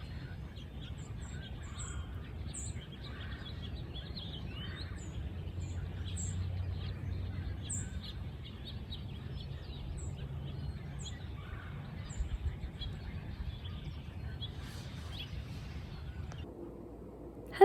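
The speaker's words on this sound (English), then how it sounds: "I just wanted to also listen for a minute to all the bird song" Spring birdsong outdoors: scattered high chirps and tweets from small birds, fairly faint and distant, repeating irregularly over a low steady background hum.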